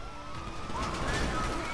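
Police siren in the video game GTA 5, a faint wailing tone sweeping up and down under game noise, brief and continuous.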